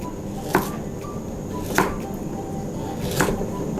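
Three separate knife cuts slicing galangal land on a board at slow, even intervals, crisp and close against a faint background hum.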